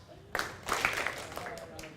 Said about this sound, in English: Men, did you join in on that clap, or was it just the women?